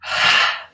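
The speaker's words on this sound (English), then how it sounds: "Really strong, loud release, out breath." A single strong, loud out-breath during a breathing exercise, a forceful airy exhale that swells quickly, holds for about half a second and fades out.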